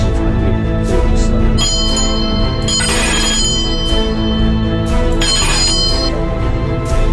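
A Ghost Bell remote-control magic trick bell rings loudly and steadily with a sustained metallic tone, several brighter strikes standing out, with no talking.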